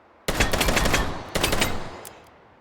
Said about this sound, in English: This is the 20DS, introduced in 2010, shooting also 357 Magnum in a much, much smaller frame